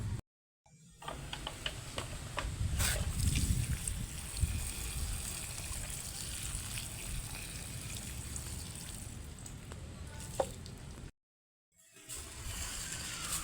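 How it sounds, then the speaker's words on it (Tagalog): Water poured over the surface of a compost pile makes a soft, continuous trickling and splattering for about ten seconds, with brief silent gaps at the start and near the end. "Basain natin ng tubig ang ibabaw."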